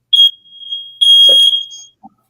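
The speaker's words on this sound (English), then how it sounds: "batteries for my smoke detector. That's what it is." Home smoke detector alarm going off indoors, shrill piercing chirps that repeat in short bursts, loud and close, with a brief voice and scraping noise mixed in.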